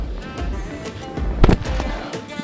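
An outdoor firework goes off with a sharp crackling burst midway through, loud and close against a rumbling background, along with some faint voices.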